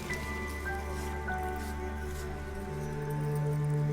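Water poured into a pit of mixed sand and soil dug for building a toilet, giving soft wet squishing and dripping beneath a steady low droning hum.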